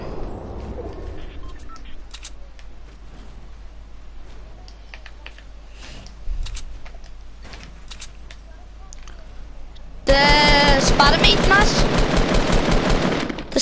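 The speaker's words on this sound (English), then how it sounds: "People shooting hand cannons, like." Rapid bursts of Fortnite hand cannon gunfire crackle intermittently, then a loud sustained volley erupts near the end, with occasional voices in between.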